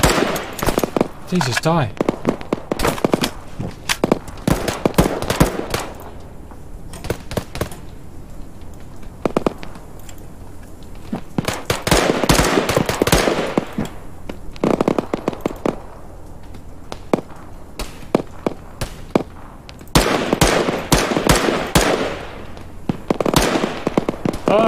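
Gunfire sweeps across an airfield in Arma 3: dense bursts of rapid automatic fire and single shots, loud and near, in repeated clusters with brief gaps, while a voice speaks briefly.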